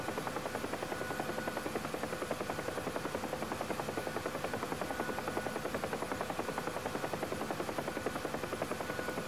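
A UH-1 Huey helicopter in the DCS flight simulator holds a steady, fast rhythmic rotor chop over a constant turbine hum and whine. It is heard from inside and stays fairly quiet throughout, with no talking.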